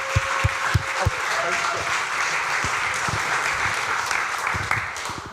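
Audience applause at an indie game pitch event in Helsinki, a steady wash of clapping from a seated crowd that holds at an even level for several seconds with a few sharper individual claps standing out near the mic.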